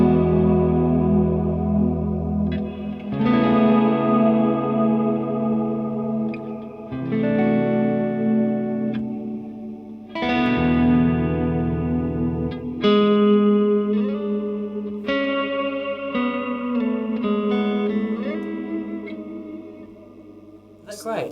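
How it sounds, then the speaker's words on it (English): Sustained guitar chords swell through a lush, washy Strymon Big Sky reverb pedal, with choir-like 'ooh' and 'ahh' vocal tones blooming behind each new chord. "this reverb sound is they've actually put some oohs and human oohs and ers and ahs into it"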